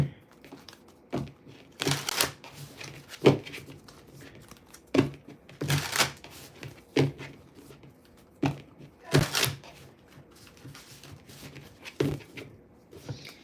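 A tarot card deck is shuffled by hand, giving repeated bursts of crisp riffling and slapping cards with quiet pauses between them.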